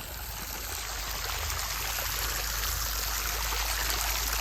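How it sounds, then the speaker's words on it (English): Hot water from a geothermal outdoor shower in remote Iceland runs in a steady, broadband hiss and splash, constant and close throughout with no voices. "Now look at that, in the middle of nowhere, a hot shower."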